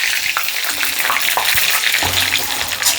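Curry leaves and two dried red chillies fry in hot oil for a taro dish, giving a steady, close, dense sizzle with a few light stirring knocks and no voices.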